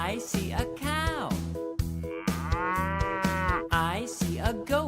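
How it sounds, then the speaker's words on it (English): A cow moos in a long, drawn-out call, layered over a looping, rhythmic musical beat that runs underneath throughout. "I see a cow."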